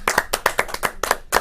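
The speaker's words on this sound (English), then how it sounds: "I remember to clap that time." One person claps their hands at a live studio stream announcing game jam results. About a dozen crisp, close claps come in a quick, slightly uneven rhythm, with no talk over them.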